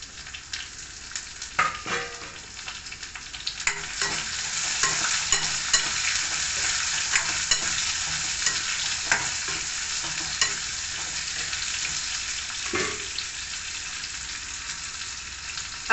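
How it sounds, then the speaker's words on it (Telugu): Onions and tomatoes fry in a pan with a continuous bright sizzle, broken by intermittent stirring clatters and spoon knocks against the pan over a steady crackle. "అవి కొంచెం సేపు వేగాలండి."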